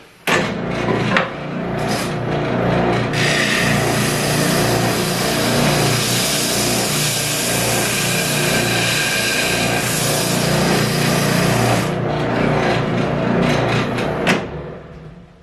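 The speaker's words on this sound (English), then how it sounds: "And then you have an oscillating spindle sander now." A Ridgid oscillating spindle sander runs on a curved wooden board, starting after a couple of bangs with a loud, steady motor whine and a broad abrasive hiss for about ten seconds, then winding down and stopping.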